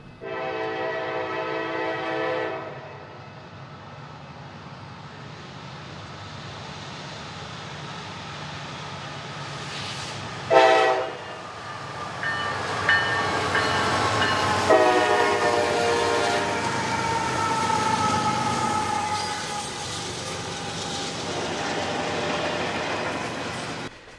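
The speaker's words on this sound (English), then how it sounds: "Southern Power led this westbound BNSF stack train toward LA." A westbound BNSF double-stack container train, led by a former Union Pacific SD90MAC locomotive, rumbles past with loud horn blasts at the start and midway, its engine drone and rolling cars growing steadily nearer.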